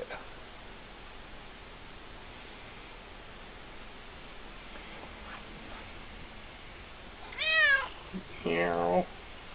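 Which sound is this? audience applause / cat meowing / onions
cat meowing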